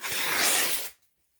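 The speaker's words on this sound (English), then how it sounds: "He was shredding the papers." A sheet of paper is torn and shredded by hand in one continuous, close, loud ripping rasp of about a second, then silence.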